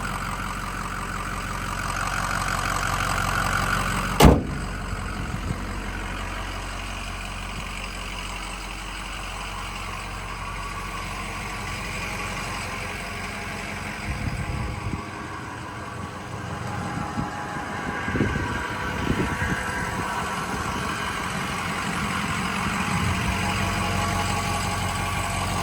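A 2007 Ford F250 Lariat pickup with the 6.0 Powerstroke diesel idles with a steady low rumble, close by, with a sharp knock early on and some faint handling noise later.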